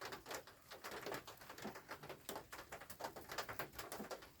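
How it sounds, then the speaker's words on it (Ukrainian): Faint, repeated coos of a young pigeon come in a steady rhythm, with soft fluttering and shuffling in the background. "Молодий голуб відбиває."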